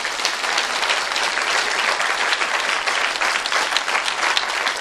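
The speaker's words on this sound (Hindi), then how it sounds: "आइए तालियां बजाइए इन लोगों के लिए।" Dense, continuous applause from a large congregation at a religious sermon, many hands clapping at once in a steady, loud wash with no pauses.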